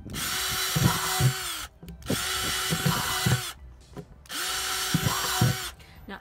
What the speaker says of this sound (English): get the larger drill bit and change it and put some bigger holes in here